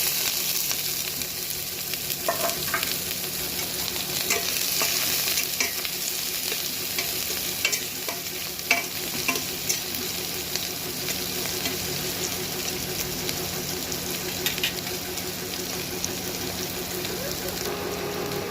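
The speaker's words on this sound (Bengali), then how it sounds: "কুচিয়ে রাখা পেঁয়াজগুলো দিয়ে দিলাম।" Chopped onions fry in oil with toasted cumin seeds, giving a continuous close sizzle with scraping and stirring strokes throughout, faint speech now and then in the background.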